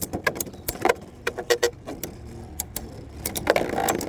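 Plastic spinning tops clash and clatter after launch in a small battle arena, sharp irregular clicks and knocks bursting one after another at close range, with no talk.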